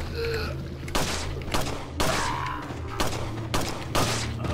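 Gunfire in the video game Resident Evil 4 Separate Ways: loud, close shots fired about once per second, five or so sharp bursts with echoing tails, no talk over them.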